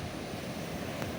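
Arabian Sea waves at Vengurla port in Sindhudurg, a steady broad wash of surf with some wind, moderately loud and unbroken, with no voices.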